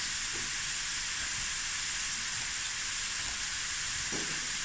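Onions and jalapenos for a cauliflower stew fry in a pot, producing a loud, constant broadband sizzle and steamy hiss up close, with faint low knocks underneath and no voices.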